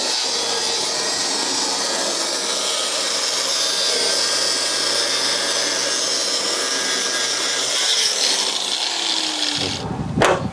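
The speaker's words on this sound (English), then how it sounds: "and then be able to cut that bar out" A power tool cuts steadily through a steel bar in a Honda Integra drag car body, a loud, sustained grinding whine for about ten seconds that winds down sharply at the end.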